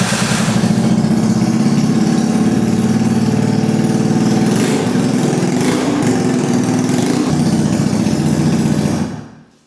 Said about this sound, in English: So as you've heard there's clearly a big problem with the exhaust